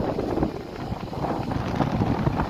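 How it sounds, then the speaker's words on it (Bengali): Strong, gusty wind blows at Chittagong port on a rainy day and buffets the microphone. It makes a continuous low, rumbling roar that rises and falls, with no voices. "বাতাসের গতিবেগ বেশ ভালোই বেশি"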